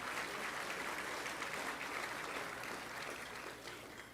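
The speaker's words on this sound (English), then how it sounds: "yes, it does deserve an applause." Audience members clap steadily through a mayor's State of the City address, a fairly faint, even wash of applause heard from a distance that thins slightly at the end.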